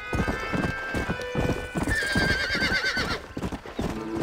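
A horse in the Red Dead Redemption video game clip-clops at a steady trot. Its hooves sound close and loud, and it neighs partway through.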